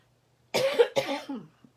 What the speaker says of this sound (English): I don't know what is wrong with me. I've got this cough.